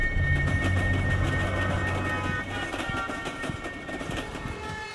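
A train rumbles past with a steady rolling clatter and some rhythmic wheel noise, heard as a recording played back in a room, fairly loud at first and easing slightly toward the end.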